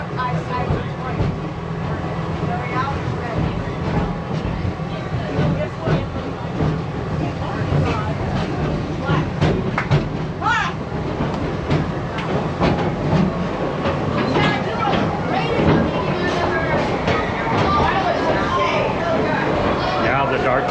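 An amusement-park ride train rumbles and clatters along its track toward a tunnel with a steady, loud mechanical drone and rhythmic clicks. A guide narrates over the noise the whole time.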